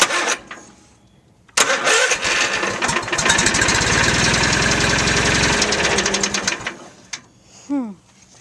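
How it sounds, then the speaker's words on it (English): A tractor engine cranks with a rapid rhythmic chugging, catches and runs briefly, then cuts off; brief voices before and after. "Will the tractor even crank over?"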